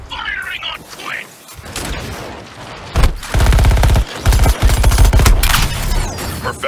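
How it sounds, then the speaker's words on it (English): Heavy gunfire rattles in rapid bursts through a battle in the video game Suicide Squad Kill the Justice League, loud and close, with a brief pause and then sustained automatic fire mixed with booming game effects. "Firing on Quinn."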